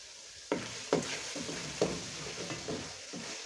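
Vegetables fry in a pan on a wood stove on a balcony, a steady close sizzle broken by several sharp stirring scrapes and bursts, no voices.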